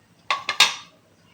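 Whole spices with curry leaves and kasuri methi tipped into a kadhai while cooking sukka chicken masala, giving three quick clattering hits against the metal pan, close and alone.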